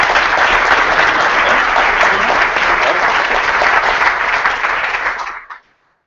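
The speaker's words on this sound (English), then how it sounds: "One more round of applause" Loud, dense applause from a luncheon audience at a ToolBank summit awards moment, steady for about five seconds before cutting off abruptly.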